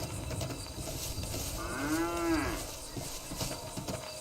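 A cow moos once in the FiveM zombie survival video game, a single drawn-out low call in the middle of steady game ambience.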